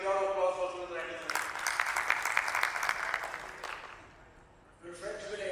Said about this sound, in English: big round of applause for Student Register